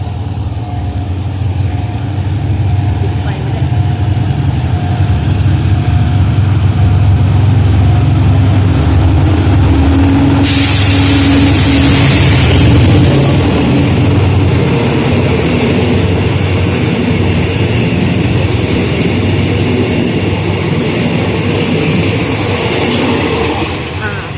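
GEA 4532 diesel locomotive hauling train 418, its engine revving up as it approaches; a loud, steady low rumble of rail and engine noise fills the whole stretch, with a hiss burst midway and someone speaking over it.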